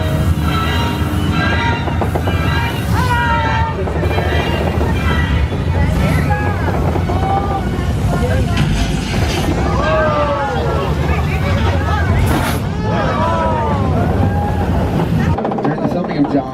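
The Universal Studios Hollywood studio tour tram rolls along with a steady rumbling rush and wind buffeting, while a guide talks and passengers react over the continuous vehicle noise.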